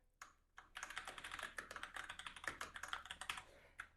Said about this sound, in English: And then typing on it is fantastic.